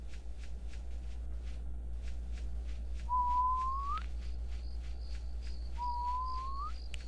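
Two rising whistled notes from a video game character, each about a second long, over a steady low hum and a soft rhythmic ticking pattern.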